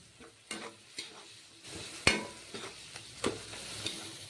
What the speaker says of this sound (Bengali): হলদির গুঁড়োটা দিয়ে ভালো করে ভেজে নিতে হবে মশলাগুলোকে